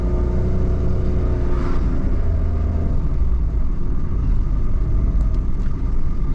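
A vehicle jolting over topes, Mexican speed bumps, on a rough road near a beach town, heard from inside as a loud, steady low rumble of engine and road noise with no distinct thumps standing out.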